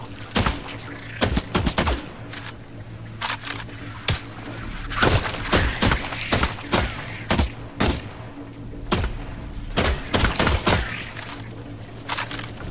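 Bursts of gunfire from a survival video game, sharp loud shots and rapid volleys repeating across the whole stretch with brief gaps between them.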